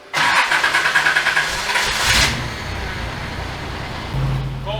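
A warm 1986 Mazda engine cranks with a fast, rhythmic starter churn that struggles, catches roughly, and settles into a low, uneven idle, loud and close.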